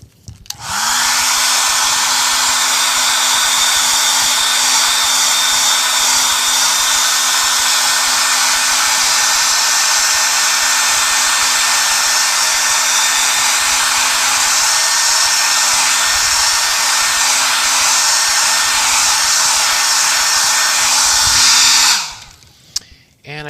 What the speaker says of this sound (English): I should blow dry all of this first and lock it in.